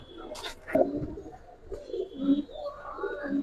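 Pigeon cooing indoors, a few soft, low rolling coos close by in a quiet room, with a brief flutter or rustle near the start.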